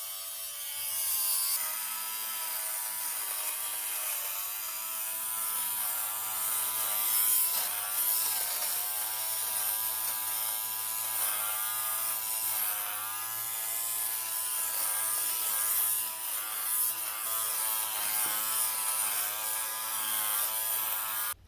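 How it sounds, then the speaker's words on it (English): An electric lint remover buzzes steadily as it shaves lint balls off a pair of pants, a continuous close motor whine with slight wavering as it passes over the fabric, no talking. "Let's try removing the lint from this pant."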